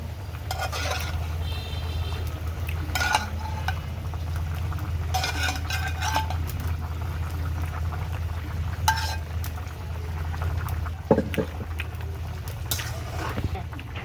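Fish added to a simmering curry of pointed gourd and green banana, with a low bubbling frying bed under scattered clinks and stirring scrapes from a utensil against the pot, close by.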